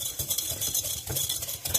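A spoon stirs cake batter for an egg pie cake in a bowl, soft rhythmic scraping and wet sloshing strokes at close range with no talking.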